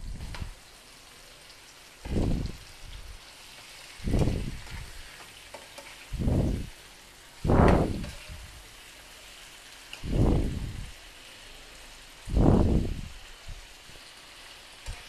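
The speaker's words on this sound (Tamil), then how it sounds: "சிக்கனை போட்டு நல்லா வெங்காயம் தக்காளி மசாலா அதில் பிரல்ற மாதிரி நல்லா பிரட்டி விட்டு வச்சுக்கலாம்" Chicken fries with onion, tomato and masala under a soft, steady sizzle, and six slow, evenly spaced stirring strokes each bring a short surge of louder frying noise, with no one talking.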